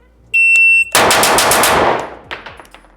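A KRISS Vector fires a rapid burst at 7 yards during a drill, preceded by a steady electronic shot-timer beep; the loud shots crack close and fast, then trail off into brief echo and a few faint clicks.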